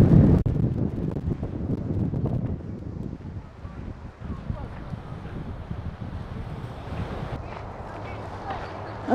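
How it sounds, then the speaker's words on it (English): Gusty wind at Donner Lake buffets the microphone with a low, rough rumble, strongest at the start and settling into a steady blustery hiss. "Donner Lake, which happens to be quite windy today"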